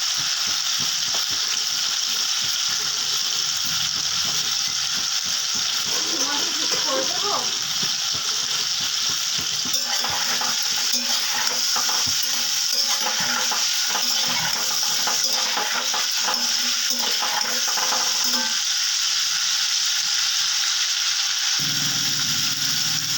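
Potatoes fry in a pan for an egg curry. A steady, fairly loud sizzle runs throughout, broken by occasional clinks and scraping stirs.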